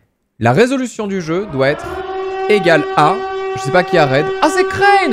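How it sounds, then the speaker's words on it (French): A siren-style alert tone rises and then holds steady through most of the moment, sounding loud and close under continuous excited talk in French during a live game jam stream. "Désolé pour la sirène"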